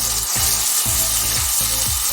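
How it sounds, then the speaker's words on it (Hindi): Finely ground tomato and masala frying in a pan for tandoori chicken masala, a dense continuous sizzle with a few low scraping strokes of a spoon, close and loud. "अब इसमें 2 अदद टमाटर बारीक पीसे हुए थोड़ा थोड़ा करके शामिल करते जाएंगे और मसाले को भूनते जाएंगे"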